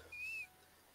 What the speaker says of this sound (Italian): Ogni tanto sento un fischio, tipo qualcosa che cigola.